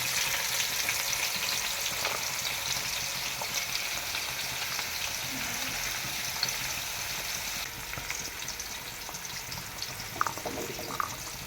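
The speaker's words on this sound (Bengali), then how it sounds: "কাঁচা পেঁয়াজ লঙ্কা ভালোভাবে ভেজে নেওয়া হচ্ছে" Raw onion and green chili fry in hot oil for a chicken curry, giving a steady, close crackling sizzle throughout, with a few light stirring clinks near the end.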